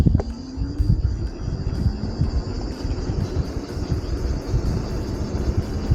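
An EILLEO Spacewalk H5 Pro e-bike accelerates on throttle alone toward its top speed, giving a steady rushing drone of motor and passing air that holds fairly level for several seconds.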